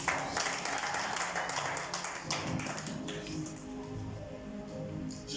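A church congregation at a Sunday service applauds together, a dense, steady wash of clapping hands that holds for several seconds and eases slightly toward the end, with faint voices mixed in.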